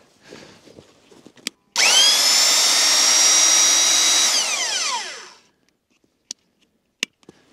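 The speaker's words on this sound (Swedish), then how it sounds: "Man kan inte starta borren om man inte aktiverar magneten." A magnetic drill spins up loudly and grinds steadily into metal for a few seconds, then winds down, with a few sharp clicks before and after.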